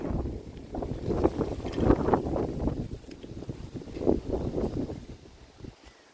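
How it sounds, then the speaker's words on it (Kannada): Strong wind gusts across an exotic fruit farm, a steady rumbling roar that buffets the microphone in waves before easing off at the end. "ತುಂಬ ಗಾಳಿ ಇದೆ ಇಲ್ಲಿ"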